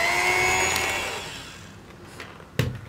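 An electric mixer beats cake batter of eggs, butter and sugar at slow speed for a plum cake. The motor whirs close and steady, then winds down and stops, followed by a few clattering knocks.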